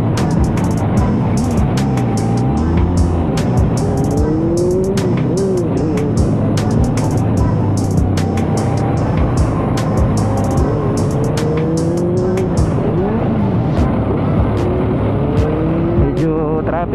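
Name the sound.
adventure motorcycle engine riding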